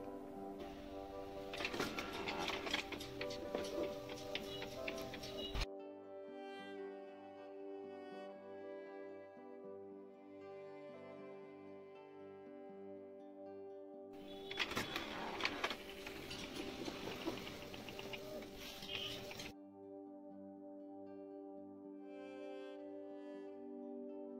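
A photo printer runs off a print-out for a magic photo frame, producing two loud bursts of mechanical whirring and feeding separated by steady tonal motor hum and quieter stepping, close by with no talking.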